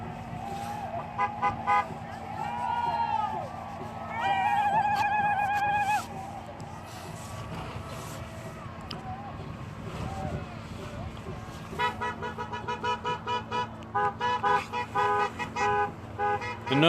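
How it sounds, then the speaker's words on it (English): Cars on a road at a protest bridge honk repeatedly, with short toots, longer horn blasts and a rapid series of beeps near the end, over engine rumble and scattered voices nearby. "The noise you hear is people going back in cars for medical"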